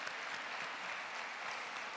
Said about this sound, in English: So if everyone give them a round of applause to my leadership team.